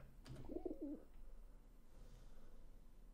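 A pigeon coos in a brief throaty burst in a Counter-Strike game, clear and close for about a second, then fades into a low steady ambient hum.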